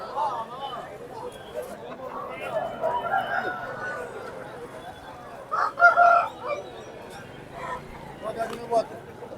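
Chickens and roosters at the weekly village market in Gokavaram give a quieter crow partway through, amid soft clucking, a general bustle and people talking in the background.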